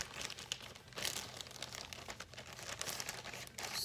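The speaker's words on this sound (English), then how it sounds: "get your plastic bag, open it up, put it in here" A plastic bag is opened and handled close up for seed germination, crisp crinkling and rustling coming in bursts with brief louder scrunches, no talking.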